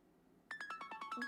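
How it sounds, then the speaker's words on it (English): A phone ringtone chimes a quick run of about eight bright, separate melodic notes, fairly close and clear after a brief near-silent start. "My phone's gonna go off."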